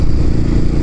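A Royal Enfield Classic 500 motorcycle engine revs with a loud, close, steady low rumble and a dense mechanical roar, cut very short.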